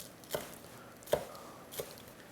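Three crisp knife chops of green onion on a cutting board with a still-sharp V-Bell knife, spaced roughly half a second apart, close and distinct against a quiet kitchen background.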